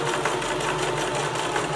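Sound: sewing machine stitching to gather fabric

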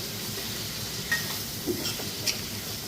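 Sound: mutton and masala being stirred and fried in a pan

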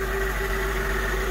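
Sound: Mercedes car engine idling after jump start

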